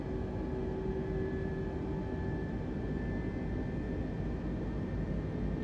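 Aircraft engine drone in Microsoft Flight Simulator 2020, a steady, loud hum with tonal whine lines that holds constant without talk, power slowly rising as the autothrottle advances.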